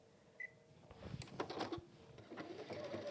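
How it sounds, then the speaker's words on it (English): Domestic sewing machine top stitching through thick layers of velvet for a folded pouch, a short mechanical whirr of needle strokes with clicks as it starts up, close and steady, no voice. "I'm going to top stitch."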